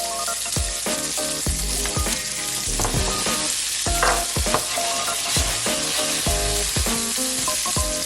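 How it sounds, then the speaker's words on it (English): Garlic sizzles and crackles loudly in hot olive oil in a pan, with a continuous dense frying hiss and occasional stirring knocks throughout. "At this point I'm going to go straight in with the garlic."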